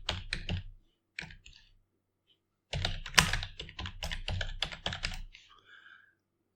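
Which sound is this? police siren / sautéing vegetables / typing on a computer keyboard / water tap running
typing on a computer keyboard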